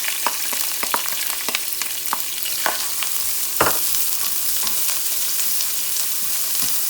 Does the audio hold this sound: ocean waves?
no